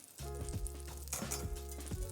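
Butter sizzles and fries in a hot stainless steel pan, a steady close crackle with small repeated pops and spatters, no voices.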